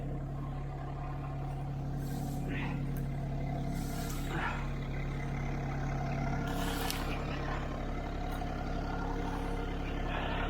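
A tractor engine runs steadily at a low, even drone while clearing a mountain trail in Kentucky, droning continuously with a few faint clanks and knocks over it.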